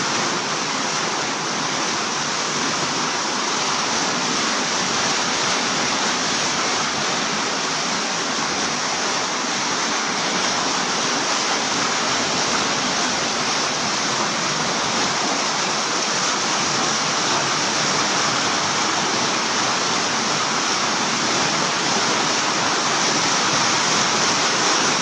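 Floodwater rushes loudly and steadily through Bonbon, Libon, Albay, a dense, unbroken roar like a torrent that holds constant for the whole stretch with no voices.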